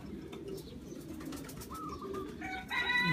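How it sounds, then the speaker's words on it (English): Young racing pigeons return to their home loft after their first loft release, with soft cooing and wing sounds over other bird calls rising near the end. "This is the young birds coming on from my loft, first loft release."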